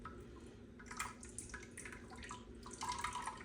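Vinegar and whey drip and trickle from mozzarella curds as they are squeezed by hand, faint, close, irregular patters of liquid.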